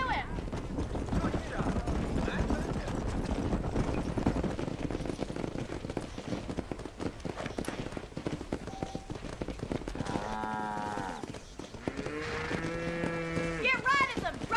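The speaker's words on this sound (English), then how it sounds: "Herd the cows down the road." Cattle are herded down a road in Red Dead Redemption, with a dense shuffle of hooves and clip-clop, then several low moos near the end, while voices talk over the herd.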